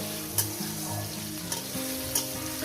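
Potatoes fry in a pan for a paneer posto dish, a steady close sizzle of hot oil broken by a few sharp clinks of a utensil against the pan.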